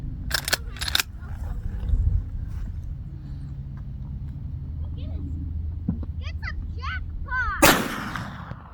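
A lever-action rifle fires once at a 230-yard target with iron sights, a sharp near blast with a short echo tail, preceded by broadband transients and faint talk and outdoor background.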